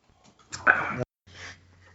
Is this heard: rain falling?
no